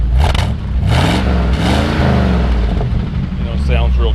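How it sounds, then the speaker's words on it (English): A 1969 Ford F-250 Ranger bumpside pickup engine revs up and falls back a couple of times close by, with a person talking over it. "We'll rev it up a little bit."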